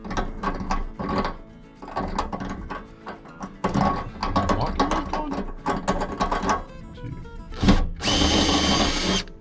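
A power drill deburring freshly cut bolt holes in the metal of a pickup truck cab, with bursts of whirring and grinding that start and stop in short runs, and a harsher, louder stretch of grinding near the end.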